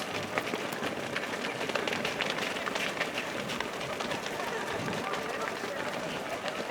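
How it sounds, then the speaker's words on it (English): A congregation at a winter solstice celebration in a Unitarian church in Rochester stomps its feet together, making a dense, continuous rumble of many thuds mixed with scattered clapping and crowd noise. "But also let's stomp our feet."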